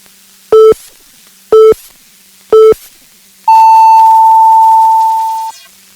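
Three short, evenly spaced pure-tone beeps about a second apart, followed by a longer, higher sustained tone lasting roughly two seconds: the KBS 3 Radio hourly time signal marking 2 o'clock, received as an FM broadcast.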